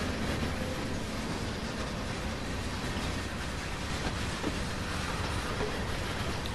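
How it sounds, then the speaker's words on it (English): A freight train passing in the Train Sim World game, heard as a steady, dense rumble and rattle of rolling wagons, continuous and fairly loud throughout with no voices. "So there's a freight train."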